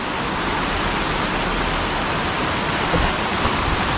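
Steady, dense broadband roar of heavy rain and rushing water of the Magbais River in Claveria, Misamis Oriental, loud and continuous with no break, filling the whole clip.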